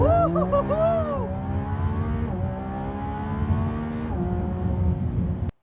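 A Lamborghini Revuelto, a naturally aspirated hybrid V12, launches hard and accelerates. Its engine note climbs sharply, drops at each of several quick gear changes, then cuts off abruptly.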